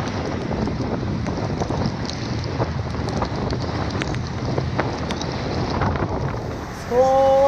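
Squall wind roaring over a sailing boat at sea, a loud continuous rush buffeting the microphone with rain-like hiss and water noise, steady throughout with a brief tonal creak or whistle near the end.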